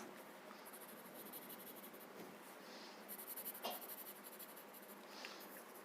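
Graphite pencil shading across paper for a coloring drawing, a steady soft scratchy rub that runs continuously at close range and low volume, with no voices.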